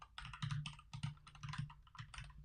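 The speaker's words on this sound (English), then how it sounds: "Typing it in now." Rapid keystrokes clatter on a computer keyboard in quick bursts with short pauses, close and crisp.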